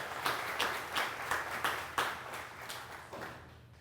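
An audience at a school honors event gives applause for its honorees: a dense wash of many hands clapping with rhythmic surges, moderately loud and fading toward the end, with no talking.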